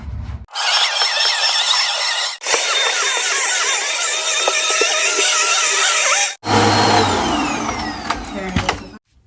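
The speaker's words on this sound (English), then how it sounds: "we're just gonna do a quick little vacuum in this little area" A vacuum cleaner roars loudly in steady bursts, cutting out briefly twice before starting again, with rattling and clatter near the end.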